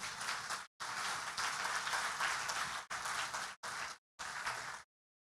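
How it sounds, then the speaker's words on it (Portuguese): A church congregation at a family congress breaks into steady applause, heard in several bursts cut by abrupt short silences, fairly quiet overall. "Quem pode aplaudir ao Senhor por isso?"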